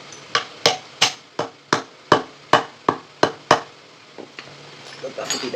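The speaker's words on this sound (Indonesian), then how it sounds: "Saya menggunakan palu karet ya teman-teman." A rubber mallet strikes a motorcycle part being fitted about ten times in a steady, evenly spaced rhythm of sharp, loud thuds, then the knocking stops and faint rustling follows.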